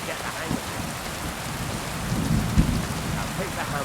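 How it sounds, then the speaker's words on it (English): Heavy rain pours in the medieval video game Kingdom Come: Deliverance 2, a dense continuous hiss with low rumbling swells and a brief heavier thump near the end, with no voices. "The fact it's raining loudly is rather..."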